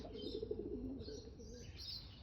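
Pigeons coo softly outdoors in a garden with fruit trees, grapevines and a chicken coop: a low, faint, rolling cooing that repeats over a hushed background with occasional light chirps.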